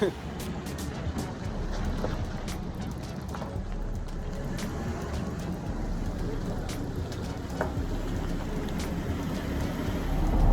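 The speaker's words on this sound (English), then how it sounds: "I didn't know how loud little mud grabblers are. I mean, it sounds like a plane" A Jeep JK on mud grappler tires drives along the road with a steady, loud broadband roar, its tire and road noise constant and close throughout, with a few brief knocks on top.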